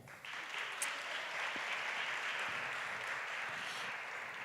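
A crowd at an awards ceremony applauds steadily and evenly, a dense wash of clapping that holds at a constant level throughout.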